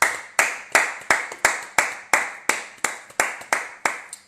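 A church congregation claps in unison to acclaim the Lord, about a dozen sharp, evenly spaced claps in a steady rhythm, close and loud.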